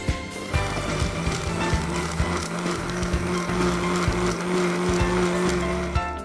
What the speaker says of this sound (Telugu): Let's blend them.